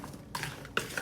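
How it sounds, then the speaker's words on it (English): Stirring a one-pot dinner, with a spoon scraping and clinking against the pot in a few short, close strokes, spaced and fairly quiet. "So we're going to stir all this together."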